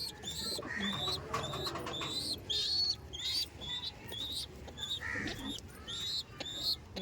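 Pigeons of the Kalasobuj breed cooing in a loft, repeated soft throaty coos close by, mixed with chirps from other birds and a faint background voice.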